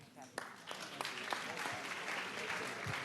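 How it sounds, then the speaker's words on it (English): Audience at a youth summit applauding, a fairly faint crowd clapping with a few sharper individual claps standing out as the applause builds. "One more round of applause for the Summer of Solutions"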